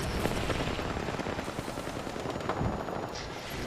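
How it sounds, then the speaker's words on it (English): Rapid automatic gunfire in a solo-squads battle royale shooter game, dense bursts of shots overlapping continuously, loud and close throughout with a busy background. "There's kids shooting at them."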